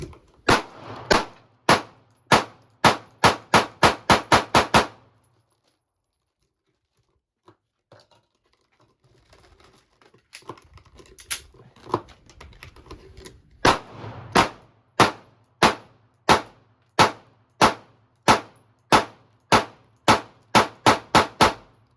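Pistol gunfire from a Springfield Armory Hellcat and a Sig Sauer P365 at a shooting session: two strings of sharp, evenly spaced, loud shots separated by a quieter stretch of faint handling noises.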